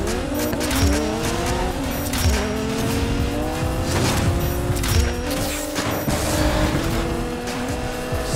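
Racing car engines roar in Need for Speed Payback, with rising and falling revving tones, gear shifts and intermittent tire squeals over a loud, continuous mix of nearby cars.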